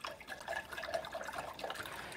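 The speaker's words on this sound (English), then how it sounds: "Okay, I can wash that brush." A paint brush is rinsed in a container of water, giving soft, faint swishing and dripping close by, with no talking.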